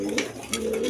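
Crested pigeons of quality stock coo close up in a brief, continuous low murmur, with a couple of light clicks over it.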